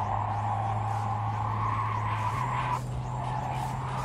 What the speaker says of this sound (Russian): А че он как будто на тормоз жмет?